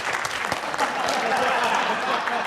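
Audience applause at a speed-debate event, a crowd clapping to vote for the negative team: a brisk, dense burst of hand claps with a few sharper close claps and a murmur of voices mixed in.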